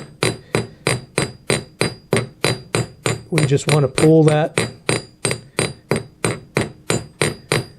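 Steady, evenly spaced hammer blows on a metal bracelet being forged on an anvil ring out one after another, sharp and loud, with a brief spoken remark between strikes partway through.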